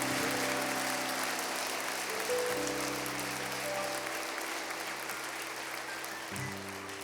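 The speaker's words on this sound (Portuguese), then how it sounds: "Aplauda Ele" Church congregation applauding over sustained keyboard chords, a continuous wash of clapping that holds steady for several seconds.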